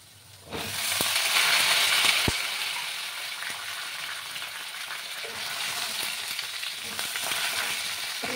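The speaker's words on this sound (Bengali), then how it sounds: "তারপর আমি ঝিঙেগুলো অ্যাড করবো, কারণ ঝিঙে তো নরম সবজি।" Ridge gourd pieces hit hot potatoes in a pan for a rohu fish curry, setting off a loud, steady sizzle that holds for several seconds with occasional stirring clicks and no voices.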